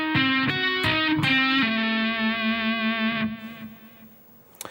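Electric guitar with distortion running a sweep-picked diminished arpeggio: a quick cascade of separate picked notes, then one sustained note ringing out and fading, loud and solo with no talking.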